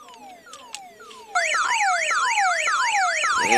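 A tone generator is heard through a car speaker: a falling, chirping tone repeats, then a loud warbling siren-like sweep cycles rapidly and continuously, close and alone with no talking.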